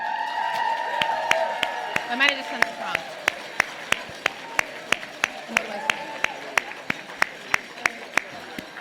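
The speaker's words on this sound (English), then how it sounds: "So everyone just keep" A conference audience at an awards celebration claps in a steady, evenly spaced rhythm, sharp beats repeating every third of a second or so at moderate loudness, while a speaker talks over it throughout.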